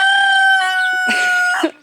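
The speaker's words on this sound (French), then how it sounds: "à chaque fois que je sors ou qu'il y a quelqu'un dans la cour, eh bien, il chante." A backyard rooster on a country property crows once, loud and close, a long drawn-out call with a rising middle and a clipped ending, alone without talk.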